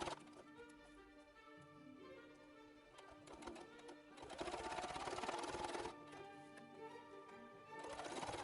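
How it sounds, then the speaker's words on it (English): A sewing machine stitches a baseball jersey in steady runs that swell louder midway and again near the end, over a constant mechanical hum. "we're going to sew just like we did with the front"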